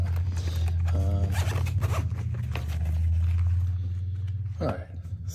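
The zipper on the carrying case of a Miyoo Mini Plus handheld game system is drawn along in a long, steady ratcheting run over several seconds, close up, while a person talks over it.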